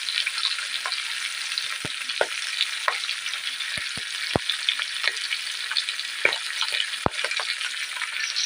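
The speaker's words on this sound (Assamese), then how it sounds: "মাছ ফ্ৰাই হৈ আছে" Fish fries in hot oil in a kadai wok, giving a continuous close sizzle with scattered sharp pops and crackles and no talking.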